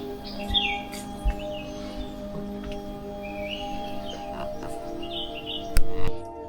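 Scattered bird chirps and short calls ring out over a steady outdoor hum at a grave site, faint and somewhat distant, with a couple of louder bursts near the end.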